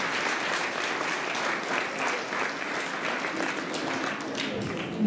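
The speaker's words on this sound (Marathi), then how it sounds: "परत एकदा जोरदार या तिघांसाठी टाळ्या वाजल्या" A crowd applauds three people at a cycle rally closing ceremony, sustained dense clapping from many hands at moderate distance, steady for several seconds.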